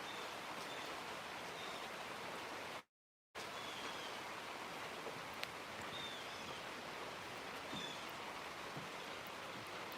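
Steady rain falls outside in a constant, even hiss, with faint patter from drops off a gutter; a brief moment of silence cuts in early.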